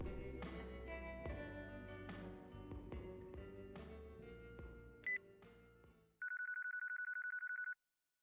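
A cell phone call rings in Yakuza 4, heard after a burst of game music fades out: a single electronic ring tone pulses rapidly and steadily, clear and alone, then cuts off.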